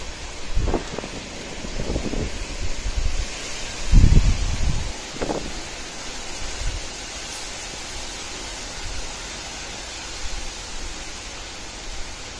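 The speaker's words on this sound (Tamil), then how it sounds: "மழை அடி அடி அடிக்குது." Heavy summer rain and strong wind on a farm: a dense, constant rushing hiss, with loud buffeting gusts striking the microphone early on before settling into steady downpour.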